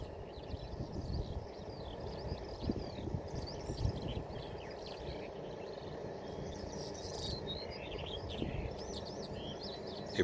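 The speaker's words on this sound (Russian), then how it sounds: "И птички поют." Birds chirp and twitter steadily outdoors over a no-till garden plot, faint high calls spread across the whole stretch with a low insect-like hum and soft background noise.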